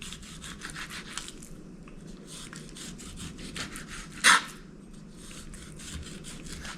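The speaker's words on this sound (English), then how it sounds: "Otherwise, you have to struggle to cut this skin." A sharp kitchen knife saws through the skin of a salmon fillet with soft, rhythmic rasping strokes, close and fairly quiet, with one brief louder scrape partway through.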